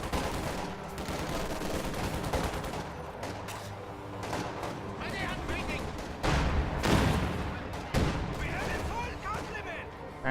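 Gunfire from a Jagdpanzer tank destroyer and other units in a wartime battle game, with bursts of machine-gun fire and sharper heavy shots over a constant background of combat noise.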